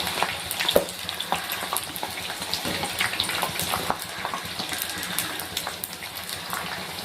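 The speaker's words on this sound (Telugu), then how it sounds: "ఇవి బ్రౌన్ కలర్ వచ్చే వరకు ఫ్రై చేసుకుందామండి" Pieces of wheat flour dough deep-fry in hot oil, a busy bubbling sizzle with crackles and occasional pops, close and steady throughout without talking.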